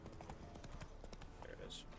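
Horse hooves gallop in The Witcher 3 as a steady, quiet clip-clop rhythm under low game ambience, with a faint voice murmuring in the background.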